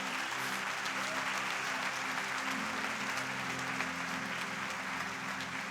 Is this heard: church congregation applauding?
yes